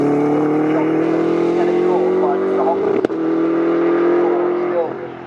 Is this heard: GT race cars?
yes